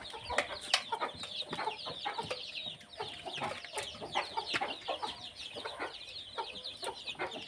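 Country chickens and four-day-old chicks on a farm cluck and peep continuously at close range, with scattered louder clucks and cheeps over a busy chattering flock.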